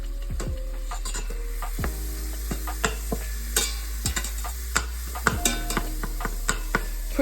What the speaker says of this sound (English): We'll make sure that the butter is fully dissolved into the meat.